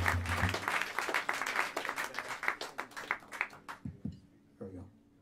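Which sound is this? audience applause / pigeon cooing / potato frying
audience applause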